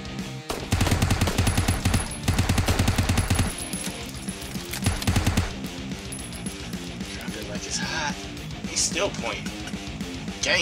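Rapid gunfire in the video game Arthas, loud bursts of automatic shots in the first half, then quieter game sounds with scattered clinks, while a person talks over it.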